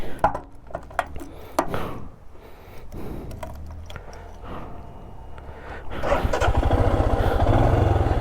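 A motorcycle engine sputters and loses power, cutting out when the tank heats up and failing to pull in one gear. Uneven, faltering bursts come first, then a louder, steadier low running rumble close by.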